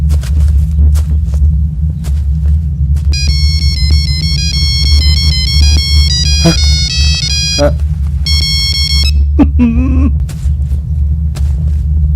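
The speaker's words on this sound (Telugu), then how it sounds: "Ring tone sir. Ring tone." A melodic electronic phone ringtone playing a Telugu film song repeats its phrases over a loud, constant low rumble, with a brief voice near the end.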